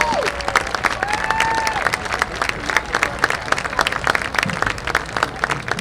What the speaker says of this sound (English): Please remain standing and give all of our homecoming court a round of applause.